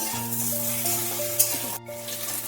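Steady sizzling of pointed gourd and green plantain frying in a pan, close and moderately quiet, with a brief clink partway through.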